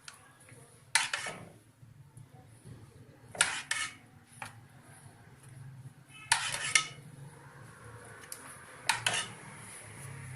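Metal spoon scraping and clinking against a pot while kulfi mixture is stirred, a few separate sharp clanks spaced several seconds apart over a soft low hum, near and fairly quiet.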